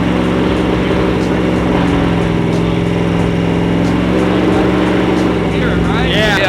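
An LS V8 swapped into a BMW E46 runs loud and close, held steady at around 3000 RPM during a coil test. The rough engine drone carries on throughout, with faint voices mixed in underneath.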